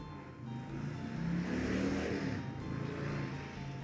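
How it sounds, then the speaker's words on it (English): A motorcycle drives past outdoors, a broad engine roar that swells to a peak around the middle and then eases off as it moves away, heard at moderate distance with no talk. "You probably heard that motorcycle that drove by just now, right?"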